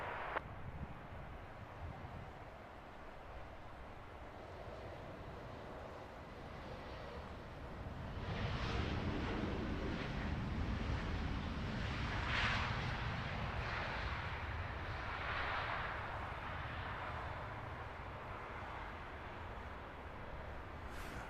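A British Airways airliner on approach to runway 27 right at Heathrow, its broad jet roar rising and thickening midway as it passes fairly close, steady and sustained with wind noise, no talking.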